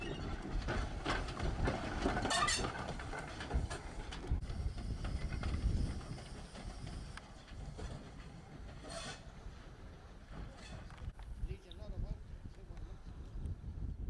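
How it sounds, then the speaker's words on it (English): A steam locomotive on a heritage railway rumbles past with rhythmic clattering on the rails, louder at first then easing off, with people talking nearby. "here comes the engine that's going to replace Folkestone"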